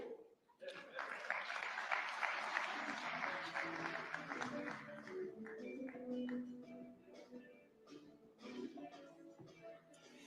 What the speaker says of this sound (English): Another round of applause for Governor Nyong'o